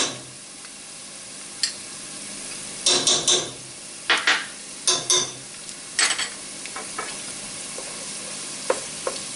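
Tomato paste frying in a pan for marinara sauce, a low sizzle beneath a series of sharp utensil scrapes and taps against the pan as it is stirred, close and without talk.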